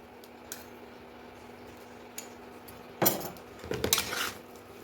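Fried potatoes being stirred and coated with roasted spice masala in a pan for egg devil, with a few sharp utensil scrapes and clatters near the end over a quiet background.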